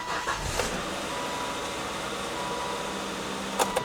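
A Volvo engine, a 1993–2007 model such as a V70, S60 or XC70 just fitted with new spark plugs, settles into a smooth, steady idle, heard fairly quietly with a couple of brief clicks near the end.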